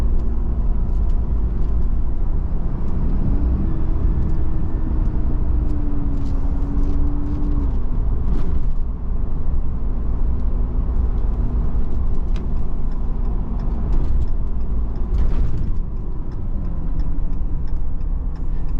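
Steady engine drone of a 2018 Ram 2500 Laramie 4X4 pickup at about 50 mph, with rumbling road noise, continuous and fairly loud throughout, with no voices.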